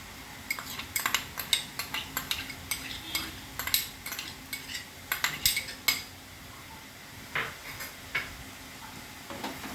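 Poppy-mustard-coconut paste is stirred into bitter gourd in a pan, heard as irregular sharp clicks and taps of a metal spatula against the pan, close and fairly quiet, with little sizzle and no talking.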